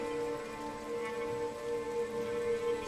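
Heavy rain pours steadily through a night scene in a Tang dynasty period drama, a dense, even wash of downpour that runs throughout beneath sustained tonal background music.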